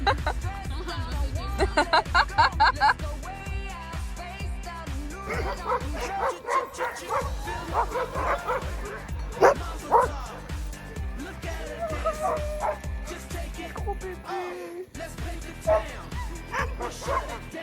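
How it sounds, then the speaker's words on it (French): A crowd of sled dogs barking, yipping and whining excitedly all at once, a dense, continuous clamor with people's voices mixed in. "Tous ils sautent, ils crient, ils aboient."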